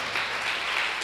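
A church congregation applauds during a worship service, a brief, dense burst of clapping from many hands that fills the room.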